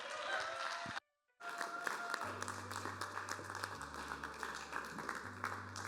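Audience applause at an esports LAN finals, a dense burst of clapping and crowd noise that drops out briefly, then resumes over a low humming tone and background voices.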